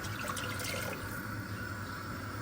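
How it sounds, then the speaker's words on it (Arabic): Hot water pours into a pot, a steady close splashing stream under constant background noise. "نمرق شويه ماء ساخن، مرق شويه ماء سخون"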